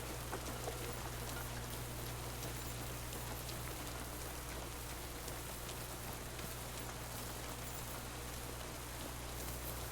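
Hard rain pours without pause in Kingdom Come: Deliverance 2, an even broadband patter of drops on the ground over a faint low hum, constant and enveloping throughout.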